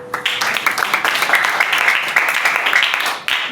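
An audience at a Tamil Christian church service claps steadily and densely for a few seconds. The sound is a close, continuous wash of hand claps, with some voices mixed in and a brief dip near the end.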